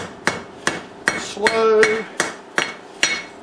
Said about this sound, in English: I've switched to a smaller hammer. I'm just trying to get my pick consolidated down to kind of a conical shape